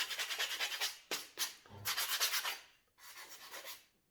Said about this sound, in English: Just a very quick sand just to remove that.